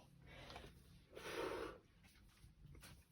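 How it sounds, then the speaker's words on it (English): Close, quiet sniffling through the nose comes in a few short bursts, with one longer, stronger sniff near the middle, set against a faint room hush. "Sorry for sniffling in your face."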